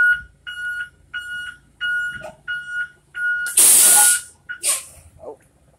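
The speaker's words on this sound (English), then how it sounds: "Oh, brakes are even loud." A school bus gives a few repeated warning beeps, then its air brakes release a loud, close burst of hissing about half a second long, followed by a shorter second hiss.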